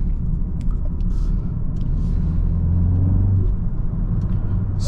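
A 2024 BMW 330i xDrive is driven on the road, heard from inside as a steady low rumble of engine and tyres with a slight swell as it pulls. The sound is close and even, with small clicks and no talk.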